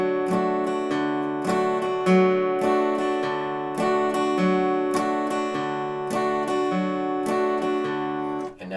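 An acoustic guitar plays the picked intro of a folk song, with bass notes alternating against plucked upper strings in a steady, clear pattern, heard alone and close up.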